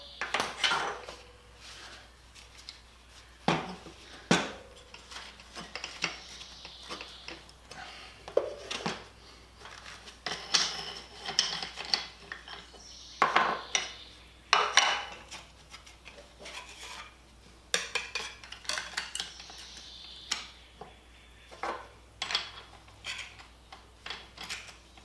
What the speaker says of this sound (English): Before I can cut the plate though, I have to mount a cutoff wheel.